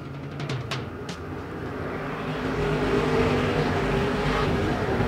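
IMCA modified race cars roar off at the start of a main event at Perris, a dense, steady engine drone that swells louder partway through, with a few sharp ticks early on and no voices.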